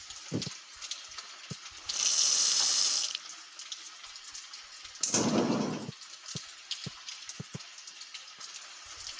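Water running into a pot from a faucet in a restaurant cooking video game, with two bursts of rushing water of about one second each, separated by light clicks and taps.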